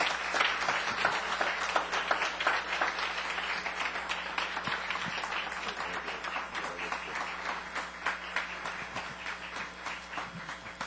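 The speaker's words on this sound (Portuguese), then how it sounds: "Aplauda mais forte, aplauda mais forte." Steady applause from a large church congregation, dense clapping that carries on without a break for about ten seconds at an even loudness.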